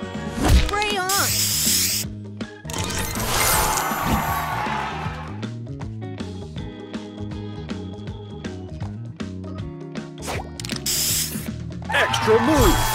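Spray booster firing in the Match Masters mobile puzzle game, a burst of hissing spray with clicky, ratcheting game effects over a dense layered musical soundtrack, with a voice speaking during it.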